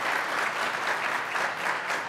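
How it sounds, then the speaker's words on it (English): Dense, continuous applause from the audience at a public and allied health symposium, a steady wash of many hands clapping at moderate level with no voices over it. "Please, a round of applause for them."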